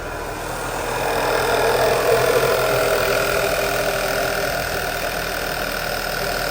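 A car engine fitted with an aftermarket PCV valve settles into a steady, even idle just after starting, a close and constant hum with no speech.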